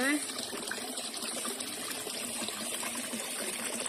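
Fish splash and churn the water in a small figure-eight ornamental pond, a continuous close trickling and gushing under a voice.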